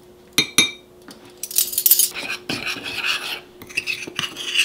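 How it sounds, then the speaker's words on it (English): A spoon stirs keto mug cake batter of almond flour and baking powder, scraping the sides of a mug with a few sharp clinks followed by continuous rasping scrapes, close up. "Stirring and scraping the sides of the mug or ramekin."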